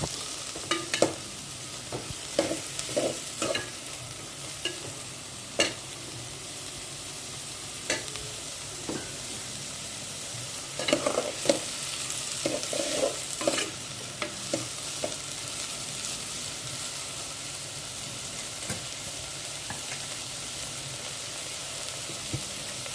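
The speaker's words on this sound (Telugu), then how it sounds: "ఆయిల్ హీట్ అయిన తర్వాత ఉల్లిపాయలు పచ్చిమిరకాయలు వేసి వేయించుకుంటున్నాను" Onions and green chilies fry in sesame oil with a soft, steady sizzle, while a spoon scrapes and taps the pan at intervals and there is no talk.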